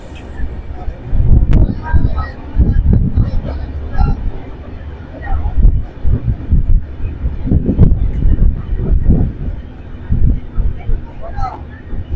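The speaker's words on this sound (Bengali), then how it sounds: "হাওড়া পুরী ধৌলি এক্সপ্রেস এই মুহূর্তে 114 কিলোমিটার অতিক্রম করে পৌঁছালো খড়গপুর জংশন স্টেশনে" The Howrah Puri Dhauli Express pulls into Kharagpur Junction station, its rumble rising and falling beneath loud crowd babble and gusts of wind noise on the platform.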